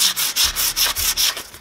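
Rhythmic hand sanding of a wooden bass guitar body, steady back-and-forth rasping strokes about every 0.4 seconds, close and fairly loud, fading slightly at the end.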